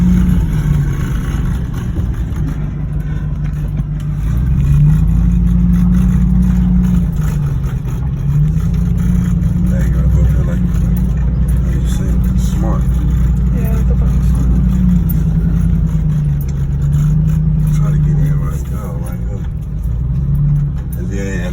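A car engine runs steadily while the vehicle backs up at a dumpster rental site near a landfill, a loud low hum that rises and falls gently, with someone talking over it.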